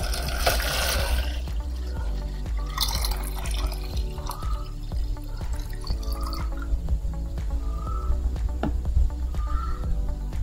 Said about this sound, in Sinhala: ඊට පස්සේ ඒකට මද උණුසුම් ජලය ලීටරේ එකතු කරන්න.